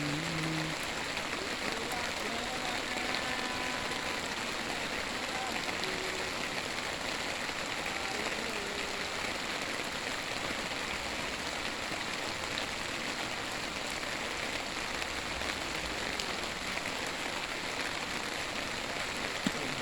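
Steady rain falls outdoors during a fishing trip, a dense continuous hiss that runs the whole time without pause, with faint voices and a few brief tonal sounds near the start.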